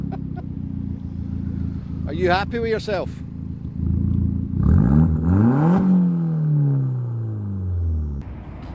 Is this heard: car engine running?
yes